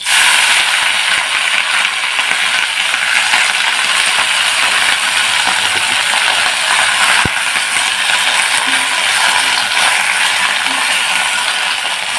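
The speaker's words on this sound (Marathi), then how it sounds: "आता या तेलामध्ये आपण ही धुवून घेतलेली भाजी टाकायची आहे." Washed wild monsoon greens sizzling in hot oil, a steady loud crackling hiss that runs continuously with small pops and no one talking.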